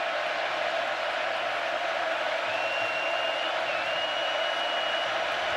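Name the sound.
stadium crowd noise at Alabama vs Texas A&M football game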